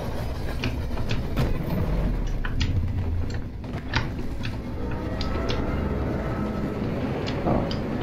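In the video game DARQ, a train car tips onto its side amid a dense, loud mechanical rumble with scattered metallic clanks and creaks that keep up throughout.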